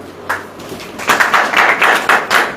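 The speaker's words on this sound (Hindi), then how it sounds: "ताली बजाइए" A church congregation claps hands together in a brisk, uneven burst that grows fuller and louder after the first few scattered claps.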